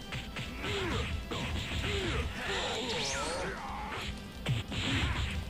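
Punch attacks land in Dragon Ball Z Budokai Tenkaichi 3 during a Hercule versus Android 17 fight, with sharp smacking hits and whooshes scattered over busy game music and effects, fairly loud throughout.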